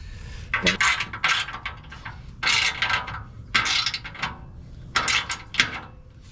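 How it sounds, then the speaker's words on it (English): A hand ratchet snugs bolts on a skid plate under a 2020 Toyota 4Runner TRD Pro, heard as four separate bursts of rapid metallic clicking with short pauses between them and no speech. "I'm just going to tighten this up snug"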